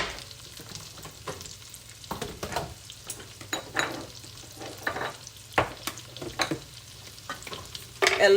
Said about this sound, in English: I'm gonna get these all sauteed so I can make sure I get all that flavor in them.